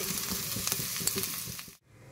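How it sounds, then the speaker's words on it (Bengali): Potatoes fried with whole poppy seeds give a steady close sizzle with light stirring scrapes, breaking off abruptly near the end into brief quiet. "মানে পোস্ত দিয়ে আলু ভাজা করে নিচ্ছি।"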